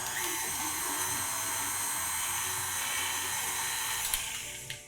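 Electric mixer blending sugar cookie dough for pistachio honey cookies, a steady close-up whirring motor hum running without pause, with a faint knock near the end.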